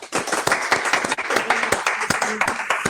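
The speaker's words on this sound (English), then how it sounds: "Round of applause for the 4th of July, folks." A crowd at a live Fourth of July event hosted by a sheriff gives a round of applause: sharp, closely spaced hand claps, loud and near, continuing briefly with a voice faintly mixed in.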